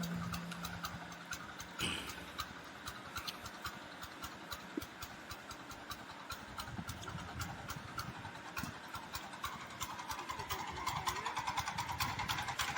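A SAAMY 7HP VIS 1000 petrol power weeder engine runs slowly at a steady, moderate chug, close by, with uneven knocks and rattles over the low drone and no speech.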